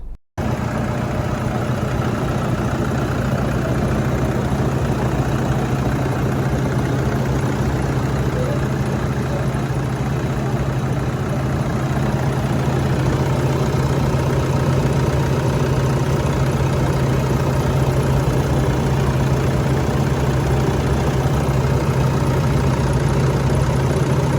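A Toyota Hilux Vigo Smart Cab pickup with a 2.5 L VN Turbo diesel idles steadily, a low even drone with a constant hum and light knocking throughout, heard alone without talk.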